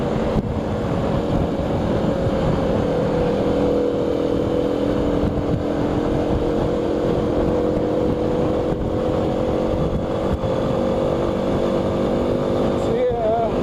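A motorcycle engine drones steadily while riding up a valley, its low hum blended with constant wind buffeting the microphone for the whole stretch.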